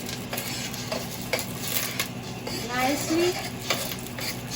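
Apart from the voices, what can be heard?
onion, garlic and ginger cooking in a pot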